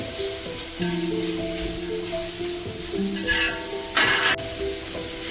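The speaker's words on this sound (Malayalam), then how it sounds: "ബീട്രൂട്ടും ക്യാരറ്റും ചേർത്ത് കൊടുത്തതിന് ശേഷം ഒരു 3 മിനിറ്റ് ഫുൾ ഫ്ലെയിമിൽ നമുക്കൊന്ന് സോട്ട് ചെയ്ത് കൊടുക്കാം" Grated beetroot and carrot sautéing in a pan over full flame, a steady sizzle with stirring scrapes throughout and a brief louder hiss burst near the end, with no talking.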